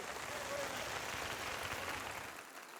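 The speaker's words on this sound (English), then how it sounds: "let's give them another round of applause" Audience applause at a church event, a steady wash of many hands clapping at a distance, faint and even, tapering slightly at the end, with a voice in the mix.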